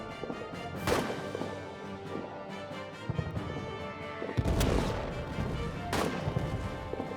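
Trench-warfare gunfire in the video game All Quiet in the Trenches: a few sharp, loud bangs ring out at irregular intervals over a constant rumbling din of battle.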